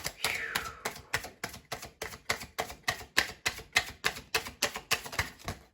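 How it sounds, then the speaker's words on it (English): Tarot cards shuffle close and fairly soft in a steady run of about twenty crisp, rhythmic riffling taps that keep an even pace throughout. "we're just gonna start shuffling some tarot cards for you guys"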